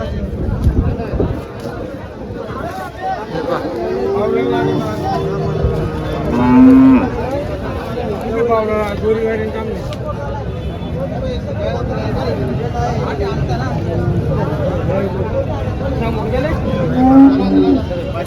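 Cows low repeatedly at a busy Chalisgaon cattle market for HF and Jersey breeds, several moos rising over a constant crowd babble and nearby talking.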